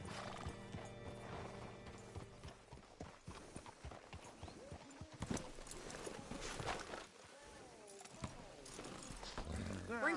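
Horse hooves clip-clop at a steady walking rhythm in a video game, with whinnies breaking in, close and fairly loud under ongoing character dialogue and game sounds.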